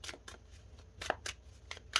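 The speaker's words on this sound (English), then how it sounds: "I'm going to shuffle that again." Tarot cards being shuffled, a quiet series of crisp riffling bursts in an irregular rhythm, close and alone with no talking.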